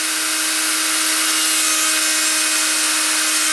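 A power drill runs continuously at high speed with a steady, whining buzz and strong harmonic tones, close and loud, with no pauses or talk.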